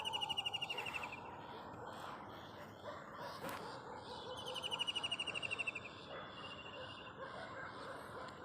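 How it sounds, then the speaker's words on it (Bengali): Birds chirp and call outdoors amid natural scenery, with bright, repeated tweets and trills rising in bursts over a steady, soft background murmur, fairly close and clear. "নিশ্চয়ই পাখির ডাকটা শুনতে পাচ্ছেন।"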